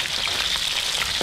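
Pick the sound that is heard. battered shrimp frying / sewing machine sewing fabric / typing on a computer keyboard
battered shrimp frying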